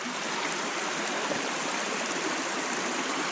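A mountain river streams past a mossy bank on a rainy forest slope, its steady broadband rush of flowing water continuous and fairly close, with no voices over it.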